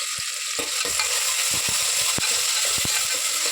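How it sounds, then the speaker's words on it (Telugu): Chopped onions frying in hot oil for an Andhra-style goat head curry, giving a steady loud sizzle with occasional scrapes and knocks of a stirring utensil against the pan. "నూనె కాగిపోయింది ఉల్లిగడ్డలు వేస్తున్నాను"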